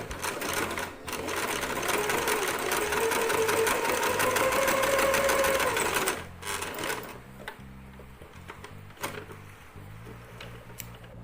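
A sewing machine stitches a simple cloth face mask, running in a fast, steady whirring chatter for several seconds, then stopping and restarting in short bursts with clicks as the fabric is adjusted.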